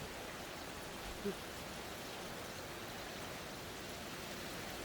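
Rain falls steadily outdoors as an even, soft hiss, with no distinct drops standing out.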